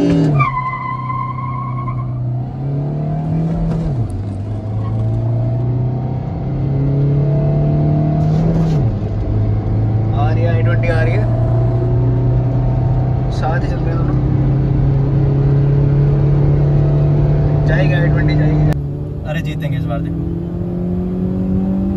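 A Hyundai i20 1.2 petrol and a Suzuki Swift 1.3 diesel in a drag race, engines revving and climbing through gear changes with loud continuous drone, while people talk throughout.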